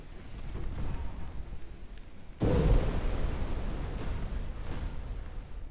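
A torpedo hit on a transport ship in the naval battle game Ultimate Admiral: Dreadnoughts, heard as one sudden deep boom that swells out of a steady low rumble of ocean and engine noise and then lingers.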